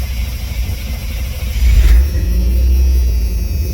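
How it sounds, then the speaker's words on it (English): A 1987 Chevy 1500 pickup that has sat for nearly two years cranks and fires up, its engine catching with a loud low rumble that settles into a steady close idle. "We'll fire the truck up."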